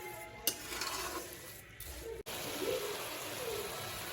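Carrot halwa with sugar being stirred in a pan, a steady soft scraping and gentle sizzle running throughout with a sharp clack near the start and a brief drop midway.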